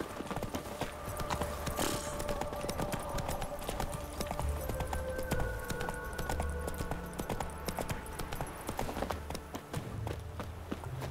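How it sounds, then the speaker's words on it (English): A horse walks in The Witcher 3: Wild Hunt Next-Gen, its hooves making a steady, close clip-clop rhythm that keeps going over a quiet background. "Whoa there, Roach."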